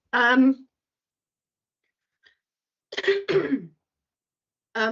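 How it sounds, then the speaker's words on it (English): A short throat-clearing cough near the mic during a planning inquiry, then a pause and a couple more brief vocal bursts that sound like further coughing. "a little cough."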